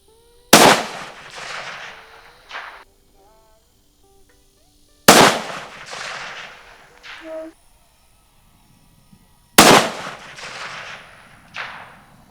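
Three loud rifle shots fired at an outdoor shooting range, each a sharp crack spaced a few seconds apart with a short echoing tail, quiet gaps between them.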